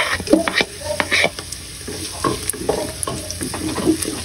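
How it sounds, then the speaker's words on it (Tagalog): Garlic and onion sautéing in oil for mussel tinola, a close, lively sizzle with repeated stirring scrapes and small spatula knocks. "Saute lang po natin ng mga 1 minute, and ilagay na rin po natin ang ating bawang at sibuyas"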